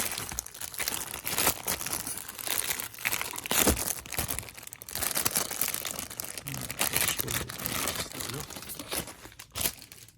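A shipping package from a Japanese proxy order is cut open with a knife, its plastic packaging crinkling and tearing in loud irregular bursts up close, with a voice talking at times.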